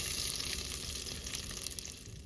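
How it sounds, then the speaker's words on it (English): Sausage frying and browning in a pan, a steady close sizzle with soft crackle throughout. "the sausage cooks, you wanna occasionally flip it so that it can get brown on the sides there"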